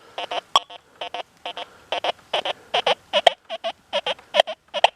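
Deus 2 metal detector sweeping over a gold ring, giving a rapid run of short, clean electronic beeps in paired bursts, steady and fairly loud with no talking.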